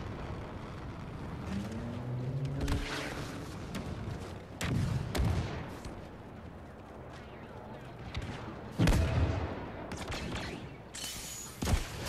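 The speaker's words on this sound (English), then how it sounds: "I'm going to try and rocket launch as many fools as possible here." Rocket launcher fire in Star Wars Battlefront 2, played on a PS4 Pro, with several heavy booming blasts spread across the clip and rumbling game noise and voices beneath them.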